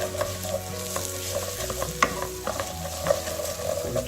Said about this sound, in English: It's important that you fry the turmeric with the rice.